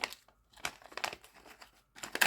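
A small plastic packet of Washingtonia palm seeds crinkles in several short bursts, close and quiet, with brief pauses between the rustles.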